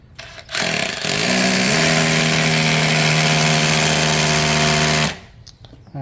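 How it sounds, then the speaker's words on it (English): A power drill bores holes while fitting a toilet flange, its whine holding loud and close for about four seconds after a short start, then cutting off. "I'm going to let him get those holes drilled"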